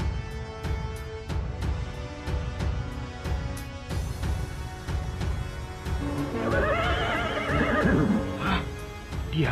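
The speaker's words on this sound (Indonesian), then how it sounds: "Kuda mereka berlari bagaikan terbang di atas pohon-pohon semak" Horses neigh and whinny in a shrill rising burst near the end of an audio drama chase, with rapid hoofbeats and busy ambience throughout and no speech.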